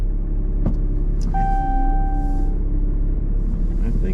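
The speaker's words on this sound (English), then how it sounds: "And the powerful diesel comes to life." A powerful diesel engine cranks and catches, settling into a steady, loud low rumble inside the vehicle, with a faint tonal chime sounding briefly over it.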